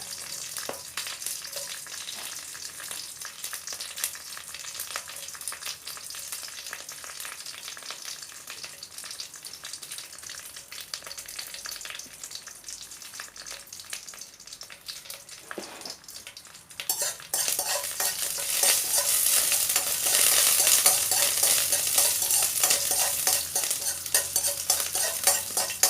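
Curry leaves and dried red chillies frying in hot oil, a steady crackling sizzle that swells suddenly louder partway through, with occasional utensil stirring sounds and no talk.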